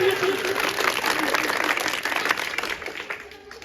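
An audience in a school courtyard, at an outdoor street play about the environment, claps for the guests: a dense, even patter of many hands that slowly tapers off.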